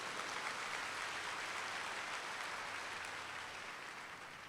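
An audience at a regional leadership training event claps together in a dense, sustained wall of applause that fades slightly toward the end.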